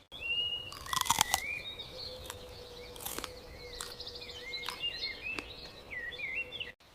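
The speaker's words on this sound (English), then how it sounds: "Birds are flying again. I hear them everywhere." Birds calling on a farm: several chirps and short whistled phrases come from different directions, some near and clear, others fainter, over a low steady hum.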